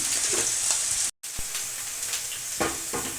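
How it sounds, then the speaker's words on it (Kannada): Cumin seeds splutter and sizzle in hot oil in a pan for pulao, with a steady bright crackle, a brief cut in the sound, and occasional stirring clinks. "ಜೀರಿಗೆ ನಮಗೆ ಚೆನ್ನಾಗಿ ಸಿಡಿಲಿ"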